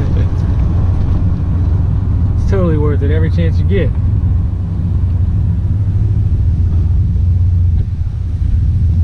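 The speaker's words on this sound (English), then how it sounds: "See how loud it actually is with the muffler on." Chevrolet Silverado SS truck with its muffler on, pulling under a bridge, giving a steady loud low engine rumble throughout while a person talks briefly over it.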